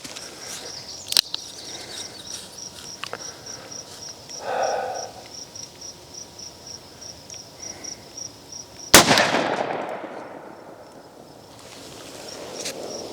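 A single sharp, loud gunshot from a .357 Magnum revolver firing Federal American Eagle 158-grain jacketed soft point ammunition rings out outdoors amid a steady chirping of insects, trailing into a long fading echo.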